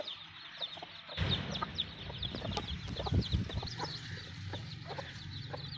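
Two Aseel hens cluck in busy overlapping bursts nearby, the calls growing denser and louder partway through over a low rustling background.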